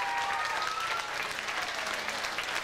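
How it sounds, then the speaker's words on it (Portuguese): An audience claps together at a youth parade event in Pawtucket, a dense, steady round of applause that holds at moderate loudness, with no talk. "uma salva de palmas para eles todos"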